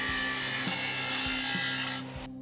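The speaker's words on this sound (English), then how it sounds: "After trimming it off, I cleaned up and rounded all of the edges for an even better fit." A rasping file works the edges of a guitar workpiece holder bracket, giving steady close rubbing strokes with a faint periodic thump before it stops near the end.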